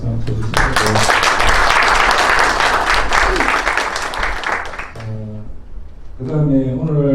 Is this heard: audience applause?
yes